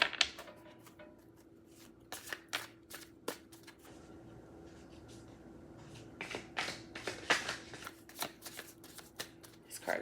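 Tarot cards are shuffled close up in a quiet room, a steady run of crisp riffling and flicking bursts with short pauses, getting busier toward the end.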